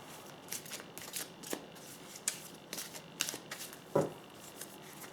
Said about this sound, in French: je vais donc tirer deux cartes.